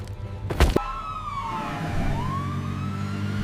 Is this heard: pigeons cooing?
no